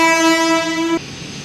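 A train horn at the Warangal railway station platform sounds one loud, steady tonal blast for about a second, then cuts off abruptly, leaving quieter station background.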